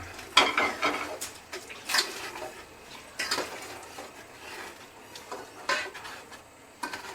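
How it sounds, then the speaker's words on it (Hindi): Chicken frying in a pot of masala gravy, a soft, quiet sizzle under irregular clinks and scrapes as the spoon stirs against the pot. "अभी तकरीबन 5 मिनट तक हम इसको चिकन को इसमें फ्राई करेंगे"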